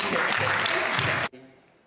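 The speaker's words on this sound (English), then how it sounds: "Let's clap for him." Audience clapping at a book launch, a dense burst of applause that cuts off abruptly, leaving a quiet room tone.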